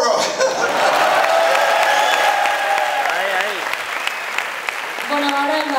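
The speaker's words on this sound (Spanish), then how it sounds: "Un fuerte aplauso para todos vosotros." An audience at a horror film presentation during a terror film week breaks into loud, sustained applause, a dense wash of clapping that fades slightly near the end as a voice begins speaking.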